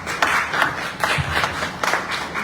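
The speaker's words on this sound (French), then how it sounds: "j'aimerais aussi des applaudissements pour l'artiste." Clapping from a smaller audience at an album release press conference, a few loud scattered claps over a softer ragged patter, fairly close and uneven in rhythm.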